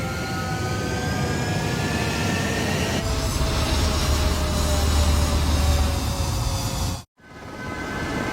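A fighter jet roars on the runway at takeoff in the Ace Combat 7 video game, a loud steady engine rumble with rising whine that builds, then cuts abruptly near the end before resuming.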